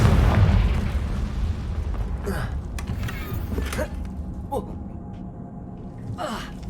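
A Confringo spell blasting in Hogwarts Legacy, with a loud burst at the start that rumbles away, then several sharp pops and crackles follow. Game ambience runs underneath.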